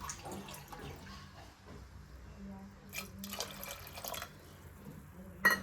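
A bowl and a half of water is poured over soaked sabudana (sago pearls) in a home kitchen, heard as soft trickling and dripping with a few louder splashes near the end.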